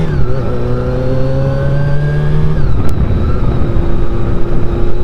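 A Honda CBR400 NC23 motorcycle engine drones loud and close, holding a steady pitch before the revs drop and settle into a rougher, lower running note.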